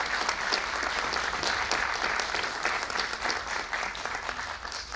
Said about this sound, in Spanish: pido para todos ellos un aplauso generoso